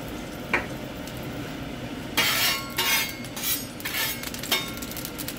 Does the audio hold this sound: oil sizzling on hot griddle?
yes